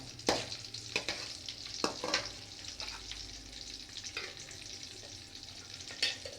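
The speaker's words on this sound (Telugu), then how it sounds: "ఒక గుప్పెడు కరివేపాకు, ఒక ఎండుమిరపకాయ తుంచి వేస్తున్నాను. ఇది కొంచెం బాగా వేగనివ్వండి." Crushed garlic, a handful of curry leaves and a broken dried red chili fry in hot oil, sizzling steadily up close while a spoon scrapes and stirs the pan several times.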